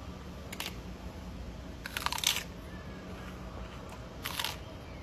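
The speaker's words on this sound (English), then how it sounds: "I'm going to eat some green, leafy, crunchy celery" Someone bites and chews crunchy green leafy celery, giving three short, crisp crunch bursts spaced apart over a quiet background, close to the listener.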